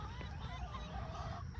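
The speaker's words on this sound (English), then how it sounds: "These are the chickens." Chickens in a backyard garden cluck and murmur softly in short, overlapping calls, faint and close by.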